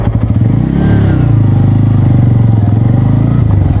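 A Bajaj N motorcycle engine running loud and close while riding, a steady throbbing drone with a slight rise in revs, no voices.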